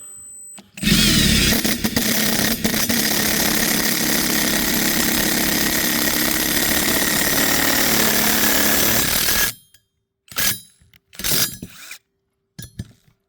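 A 12-volt impact driver drills through metal with a loud, continuous whine and grinding for about nine seconds, then stops abruptly, followed by a few short bursts of rattling.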